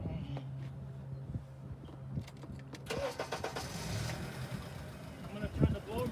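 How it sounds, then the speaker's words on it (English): A Honda car's engine cranks and catches, then settles into a steady idle heard from close by, with faint murmuring voices early on. "let me start the car"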